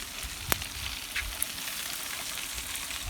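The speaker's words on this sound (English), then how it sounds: "You can hear it sizzling." Steaks sizzle on a grill with the lid just lifted, a soft steady crackle and hiss with a few sharp pops and clicks of utensils, quiet and close with no talking.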